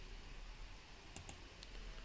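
Two quick, light computer mouse clicks land close together in a quiet room, faint and sharp against a low background hum.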